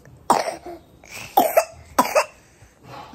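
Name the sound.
child coughing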